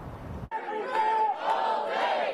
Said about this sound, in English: The protesting crowd today